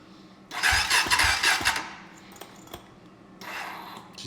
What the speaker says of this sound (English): Let's see if she starts up with the new starter.